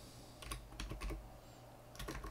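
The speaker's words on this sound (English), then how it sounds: "Having trouble typing as always." Keys clatter on a computer keyboard in quick irregular bursts of typing, with a short pause midway, fairly quiet and close with no talking.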